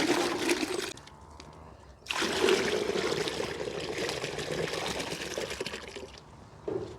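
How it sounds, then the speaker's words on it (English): Water pours from a watering can into a bucket at an allotment, a loud, steady, close splashing stream with a brief pause near the start and a short break near the end. "If I take the lid off there, and use the watering can, I'll put some in the bucket."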